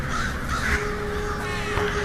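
Crow cawing repeatedly in a roughly even rhythm, fairly clear over a constant background hiss, with no one talking.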